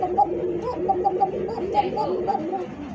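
Caged pigeons, Indian breeds such as Giribaz, Lahori and Rajgolla, coo repeatedly in a steady, rhythmic series of soft throaty calls close by, with faint background noise.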